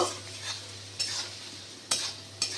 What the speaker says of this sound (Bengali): পেঁয়াজগুলোকে এবার লাল লাল করে ভেজে নেব